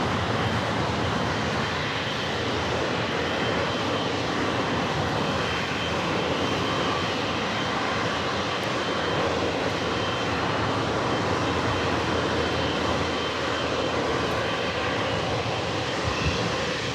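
A Kalitta Air Boeing 777-300ER converted freighter arrives at Los Angeles from Anchorage, its jet engines a loud, sustained roar that stays steady and unbroken throughout.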